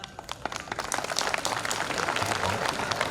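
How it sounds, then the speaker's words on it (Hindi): Crowd clapping at a public speech gathering, a busy rattle of many hands, moderately distant and steady, with a faint voice underneath. "इसलिए इतनी ताली बजाइएगा"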